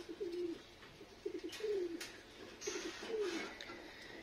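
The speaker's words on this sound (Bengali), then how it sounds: "খুব সুন্দর কবুতরগুলো" Pigeons of a fancy breed, red-colored with feathered feet, coo at a home loft, with several soft descending coos repeating at a steady pace against quiet background hiss.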